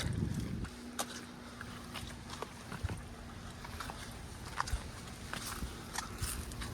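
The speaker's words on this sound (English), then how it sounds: "Windy up here." Wind blows steadily across the microphone on a hilltop, with gusty rumble and scattered footsteps and clicks crunching in the background.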